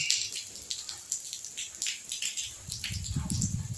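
Steady rain falls outdoors while citron pickle is set out to dry, a close hiss of drops with scattered patters on surfaces and a low rumble near the end.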